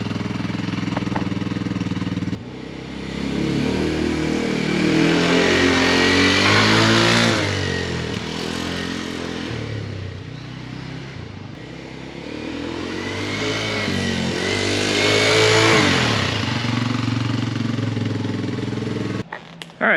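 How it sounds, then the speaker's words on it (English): A Kawasaki KLX dirt bike engine drones steadily in first gear, rising and falling in pitch as it revs up and eases off, loud and close throughout. "that's what the KLX sounds like"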